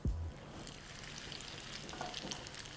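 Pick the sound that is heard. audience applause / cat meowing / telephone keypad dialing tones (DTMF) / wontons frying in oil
wontons frying in oil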